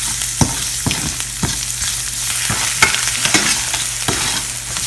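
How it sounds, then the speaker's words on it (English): Ingredients being mixed together in a hot pan while cooking a restaurant-style dish, heard close up: a steady sizzle under repeated scraping strokes of a spoon, with no talking. "So I've added all the ingredients together and just mixing them well."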